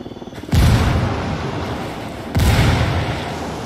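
Two heavy frag grenade blasts in a video game, one right after the other, each a sudden loud boom with a rumbling tail that fades slowly.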